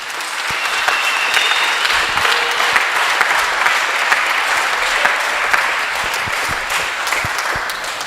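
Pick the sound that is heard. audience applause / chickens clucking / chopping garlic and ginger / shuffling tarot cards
audience applause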